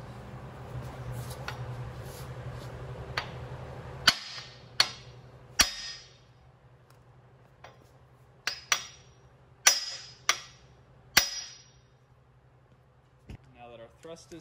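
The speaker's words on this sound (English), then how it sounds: "we're gonna take an aluminum drift and we're gonna drive the crankshaft back and then drive the crankshaft forward" An aluminum drift is struck against the crankshaft of a 351 Windsor marine short block, giving a series of sharp metallic knocks in irregular bursts over a low humming background.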